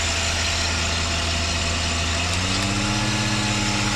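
A Mercedes SL600 V12 idles steadily after its throttle bodies were repaired, a continuous low engine hum whose pitch shifts slightly partway through, with no talking.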